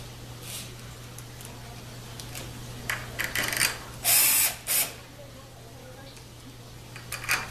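A ratchet with an eight millimeter socket tightens a bolt on a 4L60-E transmission cover, heard as short bursts of rapid clicking near the middle against a low steady hum, with speech around it.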